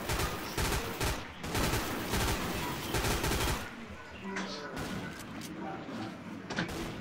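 Gunfire from the video game Code Name Cure, with dense rapid bursts of shots through the first few seconds, then a quieter stretch with scattered impacts and a thud, mixed with game ambience and talk.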